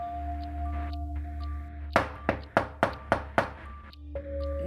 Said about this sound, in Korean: 이상한 사람이 안 가고 계속 문을 두드리니까 언니가 안 되겠다 싶었는지 대답을 해주더라고